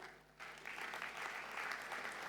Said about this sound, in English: a huge round of applause for our investors